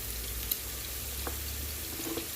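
Five slit green chillies sizzling in hot oil for sausage chutney, a steady close hiss of frying with a few faint pops and light crackles, with no talking.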